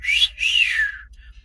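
A person imitates a whistle with their own lips: two close, bright whistled notes, the first short and rising, the second longer and sliding down, clear against near silence.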